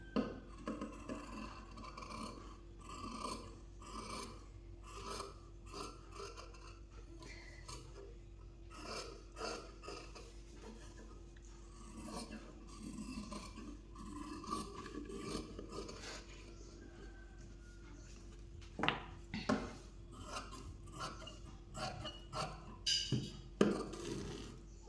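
Scissors snip through blouse fabric while a back piece is trimmed a quarter inch outside a marked line, giving faint, close rasping cuts in an uneven rhythm over a quiet room.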